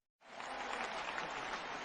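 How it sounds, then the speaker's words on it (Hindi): After a brief moment of silence, a crowd at a DXN multi-level-marketing business meeting in Bihar breaks into vigorous, steady applause that stays dense and even until the end. "उनके नाम से भी जोरदार ताली होना चाहिए"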